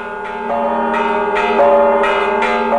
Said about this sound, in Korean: 새벽, 청아한 종소리에 베들레헴은 밝은 기지개를 켠다.